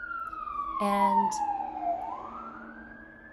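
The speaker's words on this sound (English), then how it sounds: "there's a siren going by" An emergency vehicle siren passing by outside, a wailing tone that falls and then rises again, heard steadily in the background while a person speaks over it briefly.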